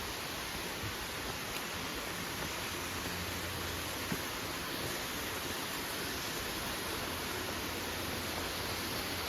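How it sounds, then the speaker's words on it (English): A waterfall on the Hamilton Mountain hike in SW Washington rushes in a steady, broad roar near a bridge, constant and unbroken throughout, with no voices over it. "go across the bridge, check out the waterfall"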